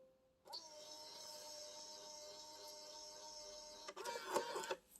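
An Epson OK500P label printer prints a label: a close, steady mechanical whir with a high tonal hum runs for about three and a half seconds, then ends in a burst of clicks and rattles as the label feeds out.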